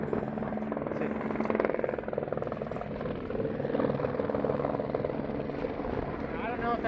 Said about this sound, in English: Oh, look, there's a chopper right there.